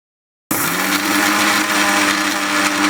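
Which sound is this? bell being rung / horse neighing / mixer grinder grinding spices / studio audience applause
mixer grinder grinding spices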